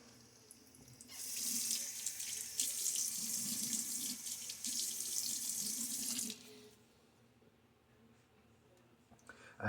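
Bathroom sink tap running steadily for about five seconds as water wets a face before a shave, a close hissing splash that stops abruptly and leaves quiet room tone.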